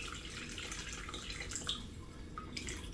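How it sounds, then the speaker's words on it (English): Warm water poured into a bowl for sourdough bread dough, a steady, close trickling and splashing that runs throughout with a few brief drips, with no voices. "And the next thing we add to the bread is 397 grams warm water."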